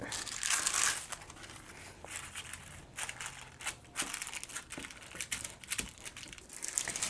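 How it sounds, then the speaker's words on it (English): Wax paper crinkles and crunches as it is pressed over cookie dough to even it out, close and fairly quiet, with irregular bursts of rustling and crackling and no talk. "And then you can take a piece of wax paper to kind of even it out a bit."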